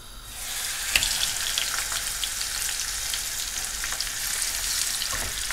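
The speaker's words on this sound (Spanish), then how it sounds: "con el aceite ya caliente, doraremos primero por la parte donde no está la piel" A lamb shoulder, skinless side down, browns in hot oil with a steady, dense sizzle and fine crackling that rises at the start and then holds. There are one or two sharp pops, and no one speaks.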